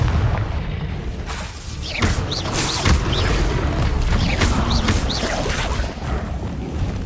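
Confringo explosion spell cast in the video game Hogwarts Legacy, booming blasts with whooshing bursts and mechanical creaks, loud and close, repeating over a dense game soundscape.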